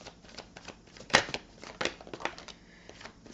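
Tarot cards being shuffled by hand: a quick run of close, dry flicks and riffles, with one sharp louder snap of the deck and soft rustling bursts following.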